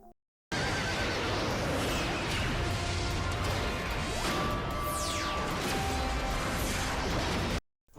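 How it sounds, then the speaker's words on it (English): Quantasaurus, the supernatural horse Megazord from Power Rangers Mystic Force, lets out a loud, dramatic whinny amid crashing impacts and whooshing effects, filling the whole stretch with dense, continuous noise. "Korag is the owner of Quantasaurus, a robust and supernatural horse, and Zord"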